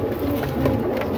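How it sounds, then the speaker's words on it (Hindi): Sialkoti pigeons cooing in a loft, a low, continuous murmur of soft coos lasting about a second with steady loudness, fairly close and without talk. "ये सियालकोटी कबूतर है"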